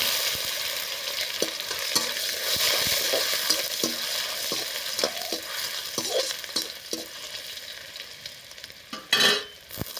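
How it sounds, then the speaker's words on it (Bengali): A tempering of dry red chilli, black cumin and chopped ginger crackling in hot oil, a bright continuous sizzle broken by frequent spatula scrapes and taps, with a louder burst of stirring near the end. "ফোড়নটা খুব সুন্দর করে হয়ে গেছে"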